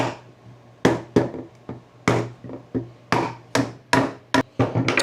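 Rubber mallet tapping a PVC pipe fitting into place on a DIY fishing rod holder, a dozen or so dull, hollow knocks in uneven clusters, close and clear with no talking.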